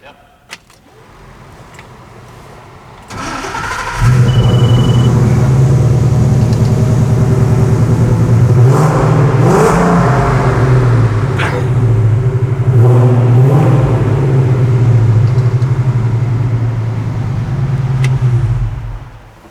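A 1968 Ford Mustang Fastback cranks briefly, fires up and settles into a loud, rumbling idle with a few revs swelling and easing, close by and steady for most of the clip.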